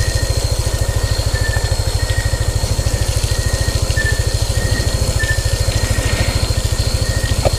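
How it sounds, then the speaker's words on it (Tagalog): A vehicle engine idles up close with a fast, steady low chug. A faint high whine sits in the background. "Patayin natin guys ang makina."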